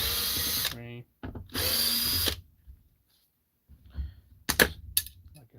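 Cordless power drill backing screws out of a Husqvarna 262XP chainsaw, two loud close whirring bursts of about a second each with spinning-down tails, then quiet handling clicks and a speaker talking.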